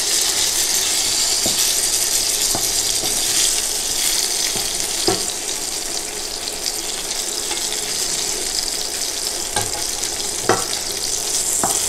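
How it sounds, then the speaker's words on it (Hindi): Pieces of surmai fish frying in a pan for a fish curry, a steady bright sizzle running throughout with occasional soft knocks and clicks from handling, close and fairly loud, no voices. "ऐसे करके बाकी का भी फ्राई कर लेंगे"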